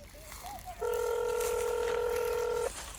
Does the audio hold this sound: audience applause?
no